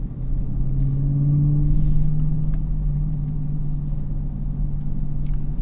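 A 2016 Dodge Challenger SRT with a big Hemi V8 and manual transmission driving a twisty mountain road, a loud steady low engine drone and road rumble from inside the cabin, rising slightly mid-way.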